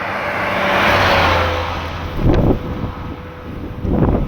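A truck passes along a village road near Beuzet close to midnight, a broad loud rushing swell that builds and then recedes, with wind buffeting the microphone and a couple of later low thumps.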